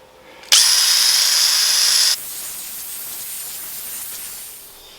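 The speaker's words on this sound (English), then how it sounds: "what I'm going to do is take a wire brush. That's where the seal goes. I'm going to clean that out." A power tool spinning a wire brush against a corroded axle seal seat on a Kubota L2900 tractor, a sharp high whirring hiss for about two seconds, then a quieter spinning-down whir that fades.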